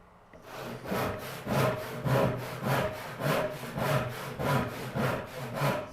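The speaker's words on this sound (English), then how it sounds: "Well, I guess, Kat, I'm gonna have to like just hold like how to use a handsaw lessons, saw-alongs instead of carve-alongs" A handsaw cuts through a straight piece of cherry wood in steady back-and-forth strokes. About nine rhythmic rasping pulls are heard up close, with no other sound.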